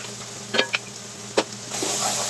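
Fennel and a minced garlic substitute frying in a pan, a low steady sizzle with a few sharp scraping stirs of a utensil up close, and the frying swelling louder near the end.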